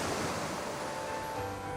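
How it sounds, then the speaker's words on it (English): Ocean waves lapping on the shore of the Isle of Man, a steady broadband wash of surf that holds at an even, moderate level throughout with no voices. "you're never more than 6 miles away from the lapping of the waves"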